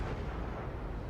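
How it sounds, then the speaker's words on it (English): Torpedo strike on a battleship in World of Warships: a dense, continuous low rumbling boom that fills the short moment at steady, fairly quiet level, with no voices over it. "I think that's who I just hit with my torpedoes."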